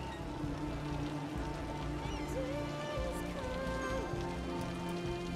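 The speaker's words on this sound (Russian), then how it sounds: "Дождик пошел. Жесткий." Heavy rain falls in the city-building game Cities: Skylines, a steady, moderate hiss of downpour that runs unbroken, with faint low hum and no speech.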